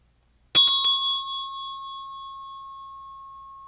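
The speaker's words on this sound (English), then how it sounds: "I'm going to go ahead and ring my bell." A hand bell is rung three times in quick succession, each strike bright and metallic, then a clear pure tone rings on and slowly fades over several seconds in an otherwise silent room.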